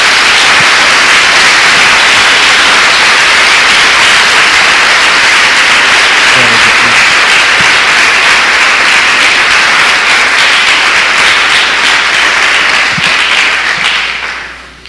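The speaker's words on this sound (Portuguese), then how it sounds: "Dê uma salva de palmas a Jesus." Loud, dense applause from a church congregation clapping for Jesus during a sermon, a continuous wash of many hands that holds steady for about fourteen seconds before trailing off.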